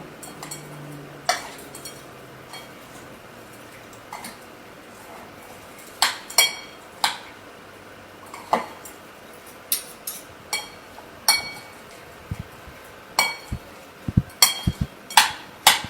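Tea leaf salad is tossed in a bowl with utensils, irregular sharp clinks and taps that grow more frequent over quiet background, with a faint low hum early on.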